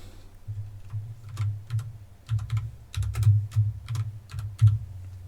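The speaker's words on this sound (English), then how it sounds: "we're going to go ahead and type some stuff in there." Fingers tap out bursts of keystrokes on a computer keyboard, close and distinct, with brief pauses between the runs of typing.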